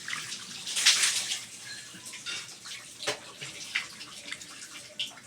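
Water gushes from an outdoor hand pump for bathing on a hot day, a steady close splashing stream with a louder surge early on and scattered drips and splashes throughout.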